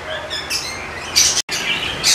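Mixed-mutation African lovebird chicks give thin, high chirps in short repeated bursts, close and fairly loud, with a brief silent break partway through.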